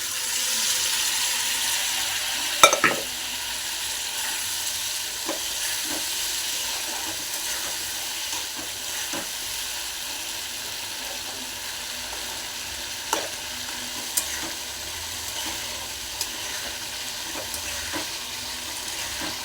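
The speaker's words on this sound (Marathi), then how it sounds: "हे चांगलं फ्राय होऊ देऊया आपण" Chicken gizzards fry and get stirred in a pan, a steady close sizzle running throughout with occasional sharp clicks and scrapes from the stirring, no voices present.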